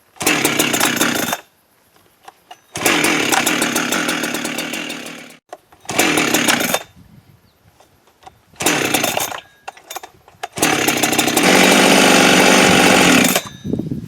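Holzfforma G372XT chainsaw engine revving after carburetor adjustment, loud repeated bursts of high-pitched racing engine noise separated by brief drops to idle, the final rev held longest.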